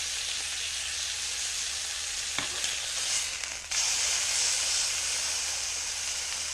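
Venison loin sears in a hot pan with a steady, dense sizzle and hiss throughout, a brief shift midway where the fry dips and then surges back loud and close.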